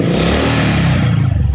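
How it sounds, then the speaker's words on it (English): A motorcycle engine running on HHO hydrogen fuel revs hard up close, a loud continuous roar with rattling harmonics for a brief moment. "We can throttle up the bike engine"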